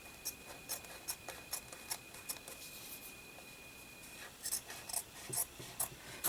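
Paper being trimmed with scissors for a Christmas-themed Mrs. Claus junk journal cover: a quiet run of crisp, irregular snips, some clustered close together, with no one talking.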